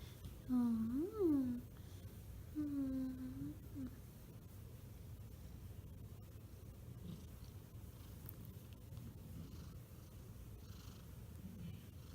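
A pet cat gives two drawn-out, rising-and-falling meows close by, followed by a soft purr and quiet indoor room sound, with no talking.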